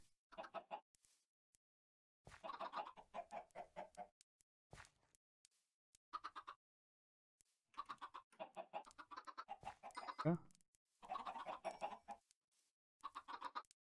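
Minecraft chickens cluck repeatedly in uneven bursts separated by short silences, fairly close and clear, with no talk over them.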